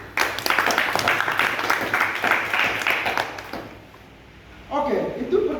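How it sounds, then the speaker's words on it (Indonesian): Students in a classroom religion lesson clap together in a brisk burst of applause that fades after a few seconds, and then a voice begins talking. "mari kita tepuk tangan untuk jawaban dari kelompok 1"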